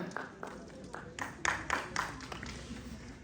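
Applause at a yoga conference in Haridwar breaks out as a cluster of claps from a modest audience, building in the middle and then thinning out, with faint voices around it.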